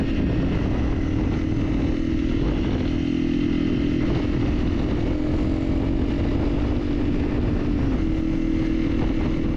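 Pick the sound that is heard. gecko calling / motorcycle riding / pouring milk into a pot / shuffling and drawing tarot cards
motorcycle riding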